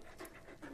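A dog panting in the Valiant Hearts video game, quick soft rhythmic breaths, close and fairly quiet, heard alone with no talk over it.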